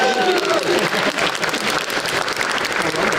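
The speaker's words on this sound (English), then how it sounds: "Clap, clap, clap, clap, clap." A dinner audience applauds at a workforce dinner and dialogue event, continuous dense clapping of a roomful of people, fairly near and steady for the whole stretch.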